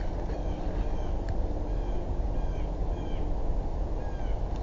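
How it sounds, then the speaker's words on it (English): Scattered birds call and chirp faintly in the distance over a constant loud rumble of wind or outdoor noise on a hiking trail at Martin Creek State Park. "Definitely hearing a lot of birds."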